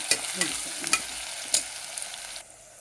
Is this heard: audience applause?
no